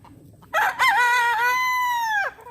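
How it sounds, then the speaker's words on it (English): A rooster, one of four kept in a backyard flock, crows once nearby and loudly, a full rising-and-falling cock-a-doodle-doo lasting about two seconds over faint background noise. "having 4 roosters out here"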